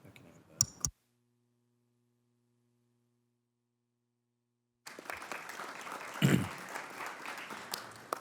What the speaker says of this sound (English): You guys are all clapping